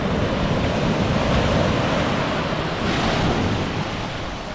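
Ocean surf at a beach in Kenting, Taiwan, a steady close wash of breaking waves mixed with gusty wind buffeting the microphone, easing slightly at the end, no talking.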